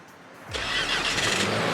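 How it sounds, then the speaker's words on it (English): Two 2025 Nissan SUVs, a Rogue SL and a Murano SL, fire up at once by remote starter: near silence, then about half a second in the engines catch with a sharp surge and settle into a steady, close idle hum. "Both cars are going to come with Nissan's intelligent remote starter. It's a race. See which one starts up first."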